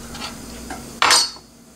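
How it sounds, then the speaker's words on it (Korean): A frozen fish cake is cut and dropped into a pan of Korean tteokbokki and pan-fried jeon, giving one short, sharp clatter and scrape of utensil against the pan over a quiet kitchen background. "이 어묵으로 맛을 좀 낼게요. 먼저 좀 잘라 넣겠습니다."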